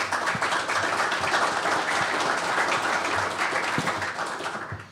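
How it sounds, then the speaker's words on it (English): A conference audience at BSides LV 2023 applauds with dense, sustained clapping that fills the room, then thins out toward the end. "Big round of applause, please."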